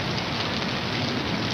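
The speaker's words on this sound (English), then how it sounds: "The rain going on." Rain falling in a steady, dense hiss, even and unbroken for the short stretch, moderately quiet with no talk over it.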